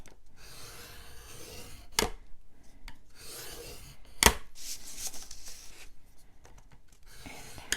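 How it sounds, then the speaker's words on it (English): Scoring tool drawn along a sheet of paper for a mini album, close and faint, with soft scratchy strokes and a couple of sharp taps between them. "So you're going to score 1 long side and 2 short sides at 1/2 inch."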